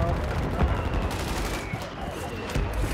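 Gunfire in the video game Warzone 2.0 during a quads match, a rapid burst of shots with sharp cracks, fairly loud over a busy game background with a voice speaking at moments.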